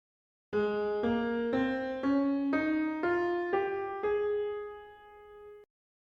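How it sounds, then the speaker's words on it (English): A major scale rises note by note on a sustained tone, eight even steps with the last held longer before stopping. "and we immediately recognize it as a major scale."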